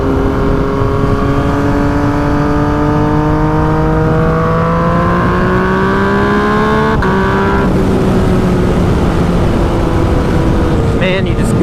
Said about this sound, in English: you just gotta love the sound of that triple